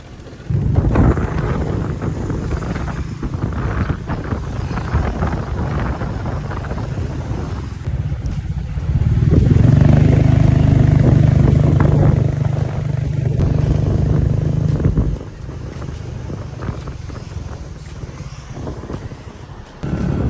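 A Grab motorbike taxi ride through Phuket, Thailand: a steady engine drone with heavy wind rush over the microphone, rising louder midway as the bike speeds up, then easing back, with no voices.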